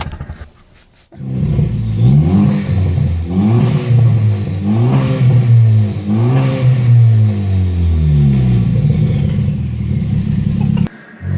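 A nearby Ford Focus sedan engine, swapped to a Focus ST engine and starting for the first time, rumbles steadily, then revs up and down in repeated surges, loud and close, with a brief clatter at the end.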